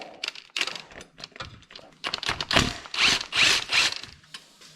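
A socket wrench ratchets on a starter bolt during transmission removal on a Chevrolet Tahoe or Silverado, giving close bursts of rapid clicking in uneven strokes with short pauses between them.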